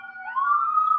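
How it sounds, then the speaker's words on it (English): Emergency vehicle siren on a Philadelphia street, a single loud rising wail that climbs and holds steady over about a second, heard alone without talk. "Excuse the sirens."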